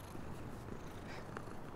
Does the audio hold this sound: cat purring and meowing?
yes